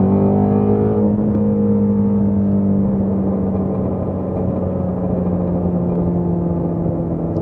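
A Ford Mustang GT350 engine roars steadily at high revs, its pitch holding and then gradually shifting as it runs loud and close, with no talking.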